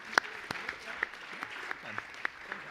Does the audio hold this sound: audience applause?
yes